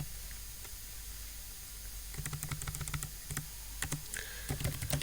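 Typing on a computer keyboard while entering commands in MATLAB, with quick bursts of clicky keystrokes that start after about two seconds of quiet room hiss and continue in uneven runs to the end.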